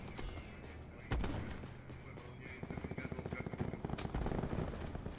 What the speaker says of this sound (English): Just shot my own teammate.